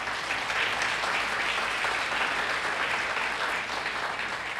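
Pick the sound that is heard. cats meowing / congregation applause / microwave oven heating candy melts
congregation applause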